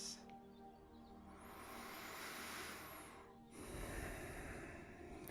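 Slow, deep breaths during a guided breathing exercise, a long, close, airy inhale followed by a brief pause and a fuller, breathy exhale, faint and unaccompanied by speech.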